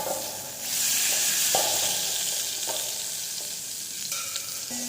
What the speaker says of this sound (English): Now the butter is getting melt.